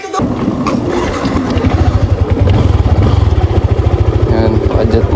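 A Sniper 155 motorcycle engine runs close by with a fast, steady put-put idle throb and some rattling clatter, while people talk over it.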